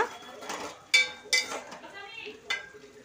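Stirring chicken curry in a pot, with a few sharp scraping clinks of a spoon against the metal over a soft sizzle, close and fairly quiet.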